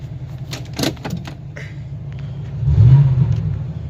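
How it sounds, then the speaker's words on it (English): A truck engine idles with a low, steady rumble after a diesel jump start, close and loud, with a few clunks early on and a brief swell near the end. "Truck's running great."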